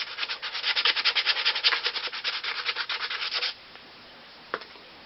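Scuff pad rubbed by hand over fiberglass during an aircraft repair, a rapid rhythmic scratchy sanding stroke repeated for several seconds close up, then stopping into near quiet with one small knock.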